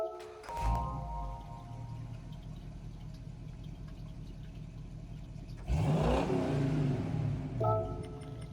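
A 1970 Plymouth Superbird V8 in Gran Turismo 7 cranks and fires, settling into a deep rumbling idle, then revs up sharply once before easing back.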